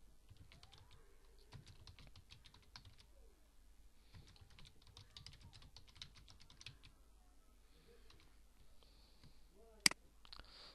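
Someone types code on a computer keyboard while setting up Option Tree in a WordPress theme: clusters of quiet, close key taps in irregular bursts with gaps, then one sharp click near the end.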